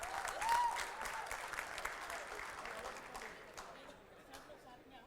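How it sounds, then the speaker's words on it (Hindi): An audience at a financial literacy quiz gives a continuous round of clapping that is loudest at the start and slowly thins out, heard from a moderate distance. "ताली बजाओ यार।"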